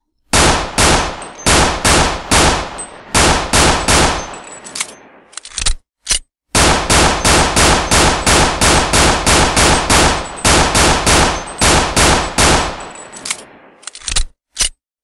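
A 9mm Beretta pistol firing in a Half-Life mod, with rapid loud shots in long sustained strings, a brief break with a few isolated shots, then another burst.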